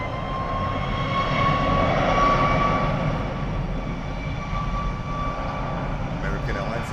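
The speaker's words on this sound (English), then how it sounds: "American Airlines departing to Guadalajara, Mexico." An American Airlines jet departs Miami Airport toward Guadalajara, a broad steady engine roar with a thin high whine, holding level and fairly loud throughout.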